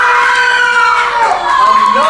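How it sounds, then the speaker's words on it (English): A general shout from an offstage crowd in a stage performance of Shakespeare's Julius Caesar, a sustained loud roar of many voices with tonal, siren-like swells running unbroken for about two seconds. "Another general shout."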